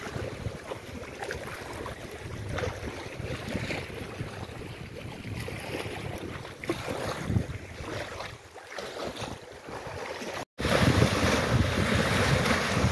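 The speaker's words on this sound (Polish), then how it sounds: "Fale jak na morzu." Wind-driven waves on a lake in winter churn like sea surf, a steady rushing wash with heavy wind buffeting on the microphone, continuous and fairly loud, with a brief dropout near the end.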